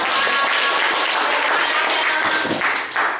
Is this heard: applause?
yes